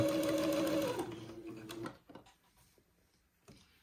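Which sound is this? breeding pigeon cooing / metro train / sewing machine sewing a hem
sewing machine sewing a hem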